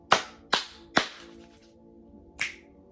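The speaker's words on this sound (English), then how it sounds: "you're going to rub your hands together and clap 3 times" Hands clapping sharply, three crisp close claps about half a second apart, then a fourth clap after a pause, each ringing briefly in a quiet room.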